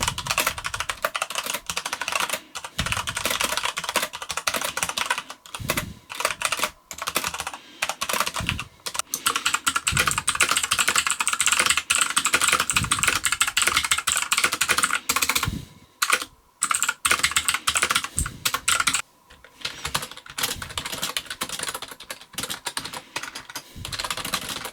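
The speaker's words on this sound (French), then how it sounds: "Le bruit des switches, qui sont, je vous rappelle, des Gateron bleus, est clairement bruyant et c'était attendu." Fast typing on a mechanical keyboard fitted with Gateron blue switches, a dense, loud, continuous run of clicky keystrokes with a few short pauses, close up and without talk.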